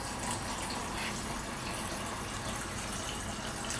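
Water pouring steadily into a Yeti bottle from a tap, a continuous moderate gush filling the whole moment with no talk over it.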